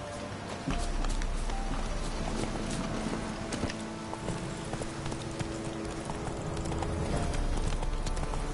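Roach, the horse in The Witcher video game, clip-clops along at a steady walking pace, hooves close and evenly spaced with no talking.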